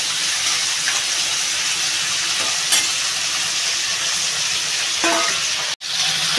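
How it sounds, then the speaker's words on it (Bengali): A crab frying in oil in a pan gives a steady, close sizzle throughout, with a couple of brief stirring clatters and one sharp cut near the end. "কাঁকড়াটা প্রায় ভাজা হয়ে গেছে বন্ধুরা, আর একটু ভাজা হলে নামিয়ে নেব।"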